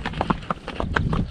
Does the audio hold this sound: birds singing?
no